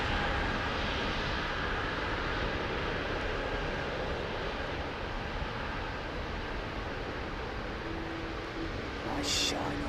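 Aer Lingus airliner on runway 09R at London Heathrow, a steady, fairly faint engine rumble and whine that holds evenly throughout.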